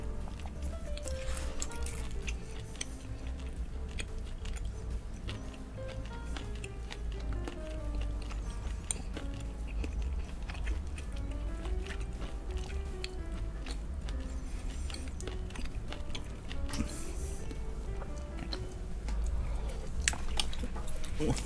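Chewing and biting sounds from someone eating Korean beef intestine stew with boneless chicken, with moist squishy mastication continuing steadily throughout over a low background hum.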